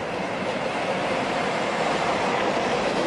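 An N scale model freight train runs through a station track on a digital layout, giving a steady, continuous near rolling rumble and rail noise with no distinct pauses or voices.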